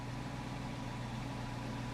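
A V8 Dodge Charger engine idling steadily, a constant low rumble with an even pulsing texture, close and unbroken, no voices.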